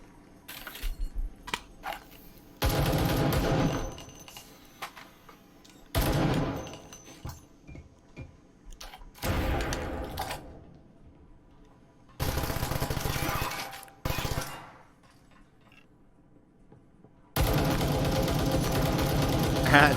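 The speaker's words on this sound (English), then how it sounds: "I'll shoot this breakable wall and kill them." Bursts of gunfire in the VR shooter Breachers VR punch through a breakable wall, arriving as several loud, separated volleys of rapid shots with quieter gaps between them.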